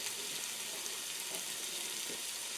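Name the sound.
onions, garlic and spices cooking in a pot over low heat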